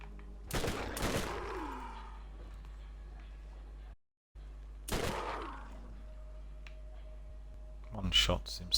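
Gunshots fired in the Borderlands video game: two separate loud shots a few seconds apart, each with a ringing, echoing tail, and a brief rattle near the end.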